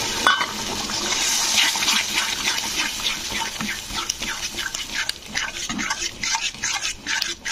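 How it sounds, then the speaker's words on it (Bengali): Water poured into a pan of frying masala for Bengali chital fish kalia, a steady hissing, splashing gush that runs through the whole stretch with bursts of sizzle, close and fairly loud, no talk. "তো এরপরে দিয়ে দিচ্ছি সামান্য জল।"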